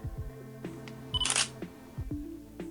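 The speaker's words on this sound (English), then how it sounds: "Now let's take a photo." A single-lens reflex camera with an extension tube fitted fires its shutter once, a short crisp click in the middle against a quiet, tonal background.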